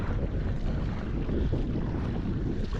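Wind blows hard across Diablo Lake around a kayak, a steady, loud buffeting rush with microphone wind noise and water lapping against the boat, continuous for a few seconds without voices.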